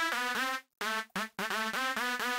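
Bright, buzzy supersaw-style synth lead, the Smash preset from the Silent library, playing a short rhythmic chord riff of staccato stabs with brief gaps, loud and upfront with no voices.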